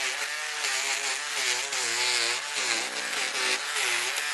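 An Arbortech power carving tool shaves charred wood on a tree installation with a loud, steady, high-pitched motor whine and a rough grinding rasp, close by and continuous throughout, with no talking.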